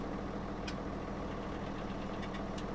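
A New Holland tractor engine idles steadily in Farming Simulator, a continuous mid-low rumble with faint intermittent clicks and no talking.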